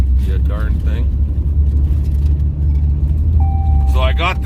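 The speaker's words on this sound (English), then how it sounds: "what the heck is rattling like crazy in my truck?" Pickup truck driving with a loud, steady low engine rumble and road noise, with rattling from inside the cab blending into the drone; someone talks over it at the start and end.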